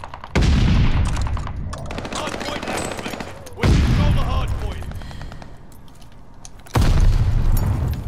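Loud video game gunfire sprays toward the enemy side in three heavy bursts, each cutting in sharply and trailing off, with a player's voice talking over the shooting.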